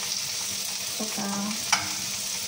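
Sliced garlic and onion fry in a pan with a steady close sizzle, and a utensil clinks and scrapes once or twice as it stirs them.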